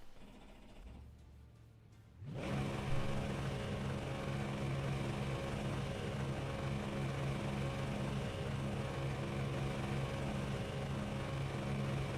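Simulated Mustang race car engine in a racing game at the Nürburgring Nordschleife, a steady loud drone with a low rumble that kicks in after a quieter opening couple of seconds, then holds continuously throughout.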